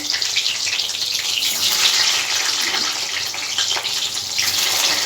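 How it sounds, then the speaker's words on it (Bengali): Potatoes frying in a pan over a low gas flame, a steady loud hiss and crackle running unbroken throughout with no voices. "আমি গ্যাসটা গ্যাসটা লো ফ্লেমে দিয়ে আলুটা ভেজে নিচ্ছি"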